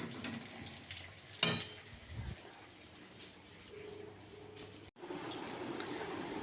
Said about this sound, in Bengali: চলো এবার ডিম ভাজবো, ডিম ভাজাটা বাকি আছে